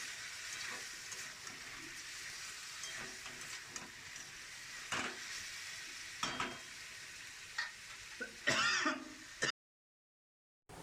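Ground spice paste hits a hot pan for Bengali chicken kosha cooked with goat fat, giving a close, steady sizzle broken by scraping stirs and a louder burst of frying near the end before sudden silence.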